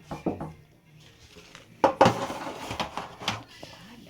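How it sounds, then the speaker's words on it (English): Puff pastry is set down onto a baking tray, producing a handful of light clatters and knocks of metal and crockery, scattered irregularly in a quiet kitchen. "You're gonna put it on a tray"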